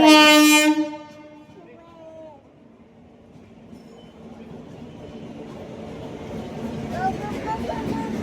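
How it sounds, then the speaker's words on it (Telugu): A Kacheguda–Chittoor passenger train sounds a loud horn blast, then its rumble rises steadily as it approaches and passes nearby. "ఇంకొక ట్రైన్ వస్తుంది చూడు"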